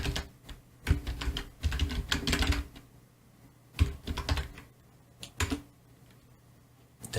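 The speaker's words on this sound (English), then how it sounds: "So I would type in my email address." An email address is typed on a computer keyboard, close and fairly quiet: irregular bursts of key clicks with short pauses, a quick flurry of taps, then scattered single presses.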